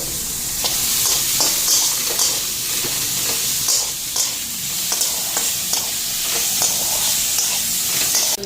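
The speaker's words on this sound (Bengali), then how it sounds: "এদিকে মাছগুলি একটু হালকা ফ্রাই করে নিই" Small fish fry lightly in hot oil with a steady close sizzle and hiss, broken by occasional soft clicks and scrapes of stirring.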